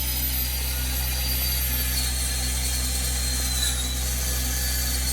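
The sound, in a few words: power saw cutting particle board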